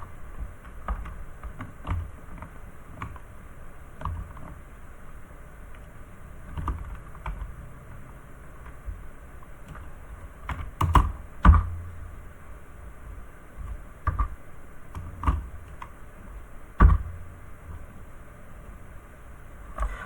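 Steady keystrokes on a computer keyboard tap at an uneven pace, with a few louder key presses standing out over a faint background hiss.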